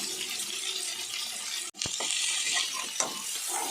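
Brinjal pieces sauté in oil over a low flame, a continuous close hiss of frying broken by a sudden brief gap, then a few soft clicks of stirring as the sizzle resumes.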